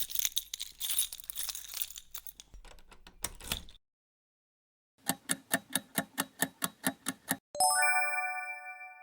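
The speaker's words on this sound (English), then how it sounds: "Key jingling." A bunch of metal keys jingles and clinks in bright, bursty shakes, then a gap of silence, followed by a run of about ten evenly spaced jangles and a final ringing chime-like shimmer.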